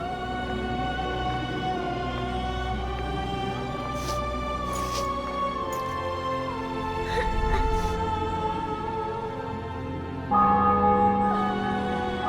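Church bells ring in a medieval fortress city in The Witcher 2: Assassins of Kings, a sustained, resonant peal with layered overtones that continues throughout, swelling louder near the end with no talk over it.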